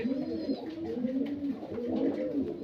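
Pigeons coo steadily in a loft housing fancy pigeons, their low, rolling calls overlapping close by in repeated swells with no speech.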